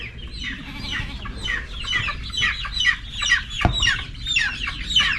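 Many chickens cluck and squawk over one another in a busy, agitated chorus, with a sharp thump partway through.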